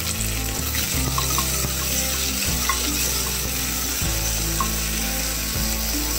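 Potatoes frying golden brown in a pan in a home kitchen, a loud continuous sizzle with occasional scraping and stirring clatter over a low rumble, close and steady throughout with no talking.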